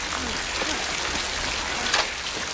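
Steady rain falling, a dense continuous hiss that keeps an even level throughout with faint scattered sounds underneath.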